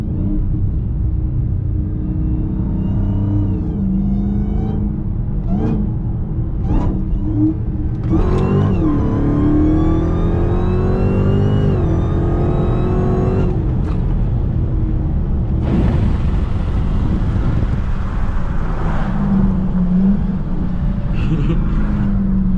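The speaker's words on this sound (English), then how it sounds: "I'm gonna give y'all one last supercharger one with the windows up." A supercharged Hellcat engine pulls hard through several gears with the windows up, loud rising whine and revs climbing, a brief pause between pulls, then more acceleration, heard from inside the cabin.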